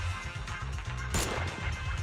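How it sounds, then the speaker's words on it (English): Gunfire in the Zenless Zone Zero video game: a rapid barrage of shots hammering in a steady stream, with one sharp, louder crack near the middle standing out above the rest. "Sound of gunfire rings out and a barrage of bullets fly towards the two of them"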